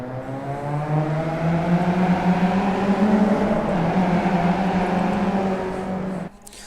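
Steady engine drone of several race cars in a video game holding high revs together at the start of a race at Road America, a sustained buzzing whine that cuts off abruptly near the end.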